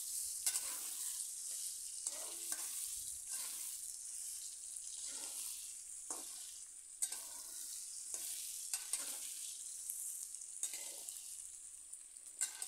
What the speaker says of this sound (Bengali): এভাবে আমি মূলা আলু লাল লাল করে ভেজে নেব।